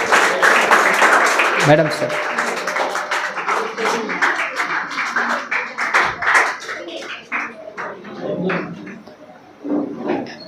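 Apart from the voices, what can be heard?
audience applause for prize winner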